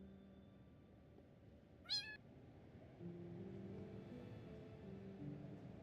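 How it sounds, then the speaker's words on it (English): A cat meows once, a short rising call, in the Minecraft Tekkit Classic modpack, followed by a low humming machine-like drone that continues to the end. "Cat, why are you bringing all these cats here?"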